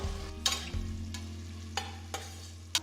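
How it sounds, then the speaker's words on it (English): Thinly sliced onion sautés with whole spices in a pan, a low steady sizzle close by, punctuated by a few sharp clicks and scrapes of the stirring utensil. "Saute the onions till they are a nice golden brown color."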